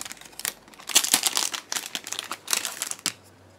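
Plastic product packaging being torn open by hand, a close, busy crinkling and crackling that rises and falls for a few seconds before stopping abruptly.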